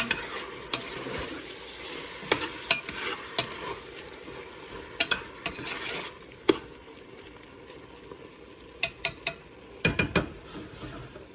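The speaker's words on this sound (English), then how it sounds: "Okay, let's put the meat back in. Okay. Okay, good, good. We've got to stir." Lamb being stirred in a cooking pot after the meat goes back in, with a steady low sizzle under repeated scraping and clacking strokes of a spoon against the pot, fairly close and without speech.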